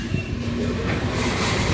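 A MEMU electric train pulls out of a small station near Devanahalli on the Kempegowda airport line, its rail rumble and wheel noise steady and fairly loud throughout, with no voices.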